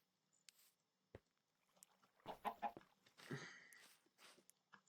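A Minecraft chicken in the All The Mods 10 modpack clucks in a few short, quiet bursts against near silence, with soft clicks and shuffling around them.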